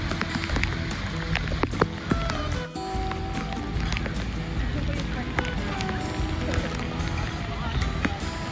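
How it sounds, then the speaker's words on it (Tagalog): Rain falls on a tropical island trip near El Nido, Palawan, a dense steady patter with scattered sharper drips. It carries on throughout over a constant wash of noise while people talk now and then. "Umuulan."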